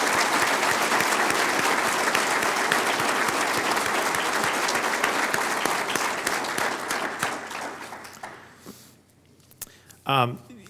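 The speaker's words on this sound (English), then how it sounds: "we'd like to give you a round of applause" A crowd applauds steadily and loudly for several seconds, the clapping gradually thinning and fading, before a brief voice at the end.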